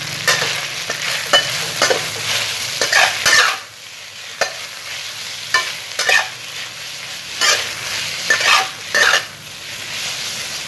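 Beef and spaghetti stir-fried with dark soy sauce in a hot pan, a steady sizzle broken by repeated scraping stirs and utensil clacks, close and fairly loud with no voices.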